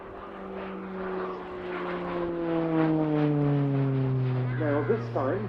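A Slovenian Pilatus PC-9M Hudournik propeller aircraft flies an aerobatic display at RIAT, its engine a steady drone with slowly falling pitch as it climbs away, fairly loud and continuous.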